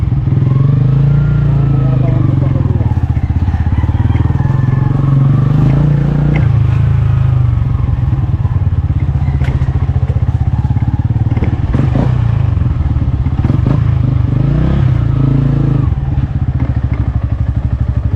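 A motorcycle engine drones steadily throughout, close by, with road clatter and occasional voices talking over the ride.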